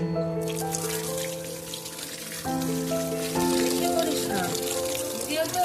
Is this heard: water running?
yes